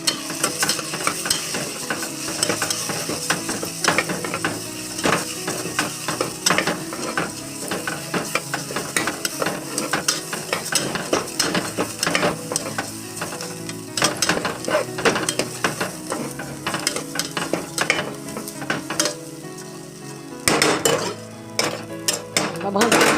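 Rice being stirred and roasted in a pan for masale bhat, with a spoon scraping and clinking against the metal in a steady, busy rhythm over a light sizzle, close and fairly loud throughout.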